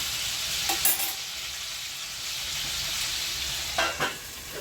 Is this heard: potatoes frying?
yes